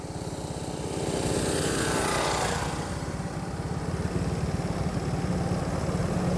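Workers run a pressure washer outdoors at a hotel construction site, giving a steady, rough engine drone with a rhythmic low pulse that swells slightly early on and holds at an even, fairly close level throughout.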